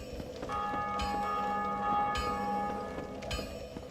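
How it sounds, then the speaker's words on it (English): Deep church bell tolls slowly in Dark Souls Remastered, each strike ringing out with a long, sustained metallic hum, distant and fairly quiet, no voices. "you're going to hear that bell from time to time"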